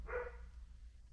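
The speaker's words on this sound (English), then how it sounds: "excuse the dog in the background" A single faint dog bark sounds in the background of a quiet indoor room, one short muffled burst and then stillness.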